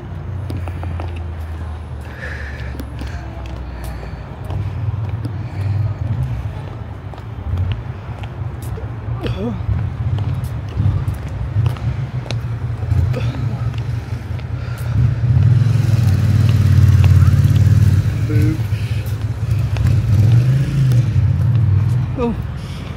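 A BMW car engine rumbles low and steady, swelling louder partway through as it revs, while people talk over it nearby.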